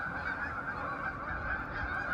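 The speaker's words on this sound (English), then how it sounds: "Most of these Canada geese" Canada geese honking on migration at Malone Rec Park in Malone, New York, a dense, continuous chorus of many overlapping calls, loud and close.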